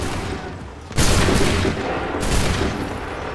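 Musket volleys in Assassin's Creed 3 Remastered: two loud, roaring bursts of massed gunfire, the first crashing in abruptly and the second rolling in a moment later over lingering battlefield noise.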